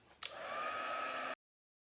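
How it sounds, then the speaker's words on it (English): A craft heat tool switches on and blows a steady, whooshing stream of hot air up close for about a second before cutting off abruptly into silence. "Grab our heat tool."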